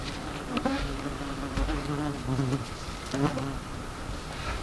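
Mosquitoes whine on a hot day during a fishing trip. Their thin, wavering buzz drifts close and away over a noisy outdoor background, with several louder passes.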